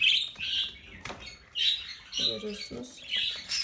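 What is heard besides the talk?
budgerigar chicks chirping in the nest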